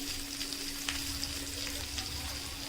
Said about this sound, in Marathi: पूर्णपणे हलक्या हाताने आपल्याला ते फ्राय करायचं आहे